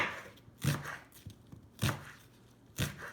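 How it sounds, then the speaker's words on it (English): A sharp knife chopping onions on a board, three crisp, separate cuts with short pauses between them, close and fairly quiet, with no talking. "And I've got sharp knife. I'm going to cut it."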